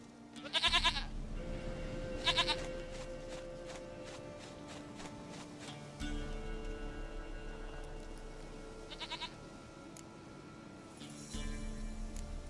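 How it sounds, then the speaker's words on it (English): A goat in The Witcher 3 game bleating several times, short shaky cries spaced across the stretch over a low game ambience hum and shuffling footsteps, close and clear. "Goat of mine! Dearest, sweetest goat!"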